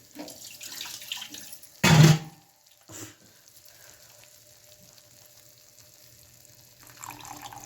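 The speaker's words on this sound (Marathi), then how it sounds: "आम्ही आणखी थोडंसं पाणी ॲड करतो आहे" Water splashes into a pot of dried fish curry in one short loud pour, followed by a smaller splash and then quiet, faint simmering.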